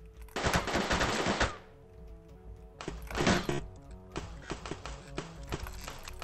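Bursts of rapid automatic gunfire from a shooter video game, two long loud volleys with a pause between and a third choppier stretch of shots near the end.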